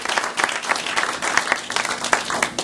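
Audience applause for a speaker at an event, steady dense clapping from a crowd throughout, alone with no talking.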